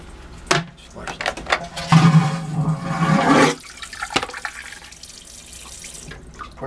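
A vacuum toilet on the Coral Princess cruise ship flushes with a loud, sudden whooshing suck lasting about two seconds, then fades into quiet room tone, with someone speaking before and after.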